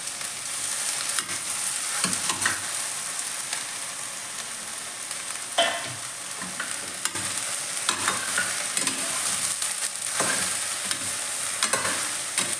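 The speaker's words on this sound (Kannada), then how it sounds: "ನಾನು ಹೀರೆಕಾಯಿಯನ್ನು ಕಟ್ ಮಾಡ್ಕೊಂಡಿರೋ ಹೀರೆಕಾಯಿಯನ್ನು ಹಾಕ್ಕೋತೀನಿ" Chopped ridge gourd frying with onions in a pan for ridge gourd sambar, a steady close sizzle broken by repeated stirring scrapes and spoon knocks against the pan throughout.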